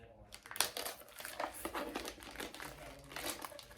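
Plastic packaging around an 11-by-11-inch plastic snap frame is pulled open, making quiet, irregular crinkles and rustles close by with a few sharper crackles, and a voice talks softly throughout.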